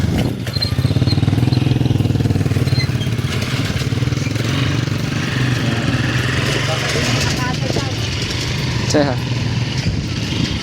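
Motorcycle engines rumble loudly nearby, idling and then pulling away, while people talk over the noise.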